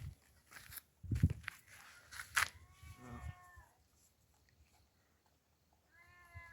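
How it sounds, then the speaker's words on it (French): A cat meows several times in a drawn-out, wavering way, close and fairly clear, among some nearby handling and footstep noises, with a final faint meow after a quiet pause. "Je vais rentrer juste le chat"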